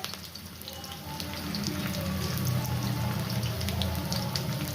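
Onions frying in a pan for a hilsa fish head and bottle gourd curry, a steady moderate sizzle and crackle that grows slightly louder after the first second, with no speech.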